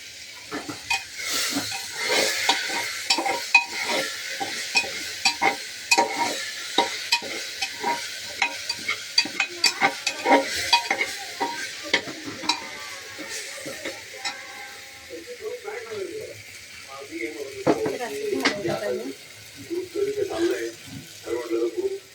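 Food stirred with Amul butter in a pan, a series of rapid scraping and tapping strokes over a light sizzle, close and fairly loud, with a person talking over the later part.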